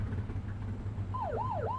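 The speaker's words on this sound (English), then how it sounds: "Get behind them and blip the siren to make them pull over." A police car siren in The Precinct gives a short wailing blip that rises and falls twice over the low rumble of the car's engine, close and clear.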